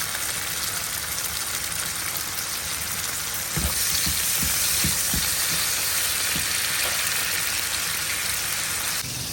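Shrimp fry together with other ingredients in a pan, giving a dense, steady sizzle throughout, with a few soft taps from stirring partway through.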